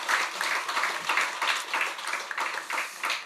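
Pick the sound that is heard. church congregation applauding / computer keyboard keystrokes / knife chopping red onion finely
church congregation applauding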